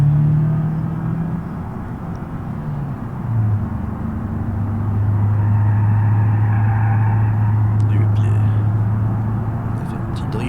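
A car engine held at full throttle in the BeamNG career-mode driving game, used as a taxi, gives a steady, loud, low drone that swells slightly midway and holds throughout.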